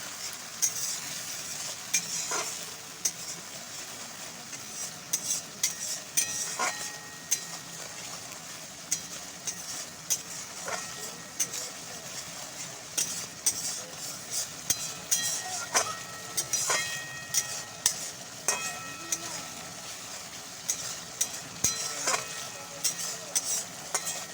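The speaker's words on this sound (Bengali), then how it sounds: "তো এবার সুন্দর করে মিশিয়ে নেবো" A spoon stirs turmeric and salt into a frying spice mixture for a vegetarian mustard-poppy seed pointed gourd dish, repeated sharp scrapes and clinks against the pan over a faint steady sizzle, close and quiet.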